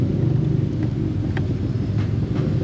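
A drag racing car's engine idles steadily at around 1,000 RPM, a loud continuous low rumble with a few faint clicks on top and no voices.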